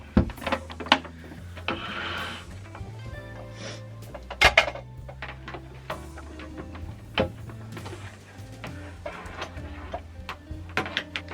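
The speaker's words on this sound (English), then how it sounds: "All right, now we sew." Sewing machine stitching fabric for Halloween bookmarks, a steady mechanical running hum with rapid needle ticks and a few sharper clacks, close and fairly loud with no talking.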